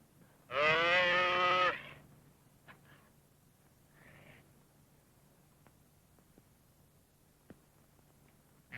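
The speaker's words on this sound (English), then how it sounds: "Sounds like a calf blowing." A calf on a ranch gives one loud, drawn-out bleat up close, followed by faint shuffling and small knocks in a quiet setting.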